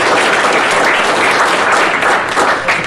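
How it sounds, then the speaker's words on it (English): Sustained applause from a technology town hall audience, dense and steady clapping filling the space without pause, fairly loud throughout. "let's give them a round of applause."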